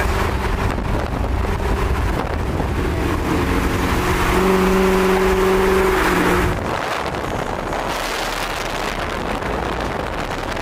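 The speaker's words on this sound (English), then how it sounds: "I know it's a lot of wind right here, guys." Strong wind buffets the microphone outdoors among people hanging out with fast cars, a steady loud roar with a car-like engine hum rising midway before the gusts drop back to a lower rush.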